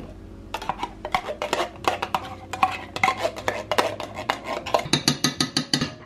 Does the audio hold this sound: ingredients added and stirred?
yes